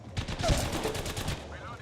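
Gunfire in a video game: a rapid burst of close, loud shots in quick succession that ends abruptly, leaving a quieter tail.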